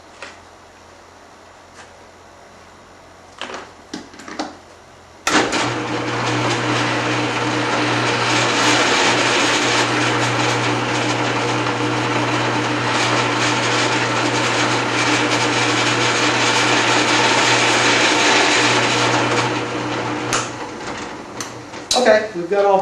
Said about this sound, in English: drill an entry hole on the outside of the top, and then one entry hole right on the line of the inlay